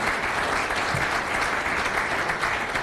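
Sustained applause from an audience at the closing ceremony of a customs training session, a dense steady wash of clapping that holds at a constant level and cuts off at the end.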